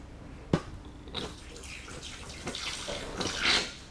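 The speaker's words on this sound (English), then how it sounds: "Hear that gurgling sound?" Air and oil gurgle inside a Stinson aircraft landing gear strut as it is pushed, giving short wet bubbling bursts with a sharp knock near the start, close and fairly quiet.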